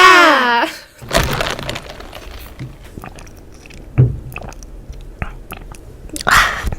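Cream mochi rice cakes in bubble tea and mango flavors being eaten up close, soft squishy chews and a few sharp biting cracks between quiet stretches, with brief voices at the start and end.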